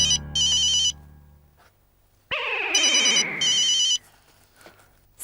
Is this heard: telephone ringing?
yes